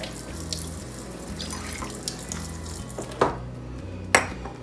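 Cold running tap water pours steadily into a measuring cup, with a low hum underneath and a few clinks of the cup against the sink.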